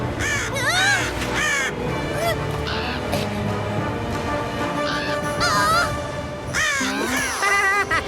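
Crows caw repeatedly around a crow's nest, harsh calls overlapping in bursts close by, with a busy animated-scene backdrop of other sounds underneath.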